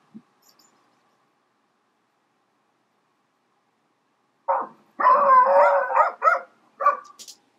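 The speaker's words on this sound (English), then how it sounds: "we've got a section of the dogs barking and running around making noise" Dogs bark in a quick burst after a long silence, several sharp yips and barks clustered together at moderate distance, with a brief pause before a few final barks.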